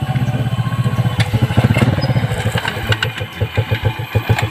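A motorcycle engine idles close by with a loud, rapid pulsing putter that revs up briefly and settles back to a steady throb.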